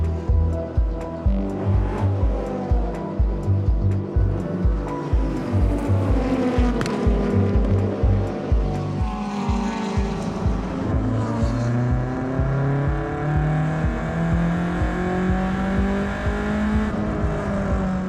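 A race car heads out on the track with its engine loud and close, the revs climbing and dropping through gear changes in a continuous, rasping drone that swells and eases.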